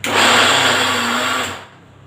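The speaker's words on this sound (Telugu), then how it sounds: "ఇందులోనే బెల్లం కూడా వేసి మిక్సీ పట్టాలి" A mixer grinder whirring loudly with sesame seeds and jaggery for a Nagula Chavithi sweet, a steady close motor drone that runs about a second and a half before spinning down.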